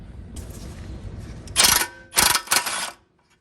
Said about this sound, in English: if you're using an impact wrench, 11/16 works just fine